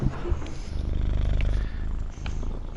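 A cat named Cockeye purrs right up against the microphone, a close, steady rhythmic rumble with breathy pulses and no talking.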